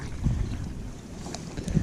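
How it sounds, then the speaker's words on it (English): Wind gusting over open water on a crappie fishing outing from a boat after a rain squall, rumbling low and buffeting the microphone in uneven bursts. "it's getting windy"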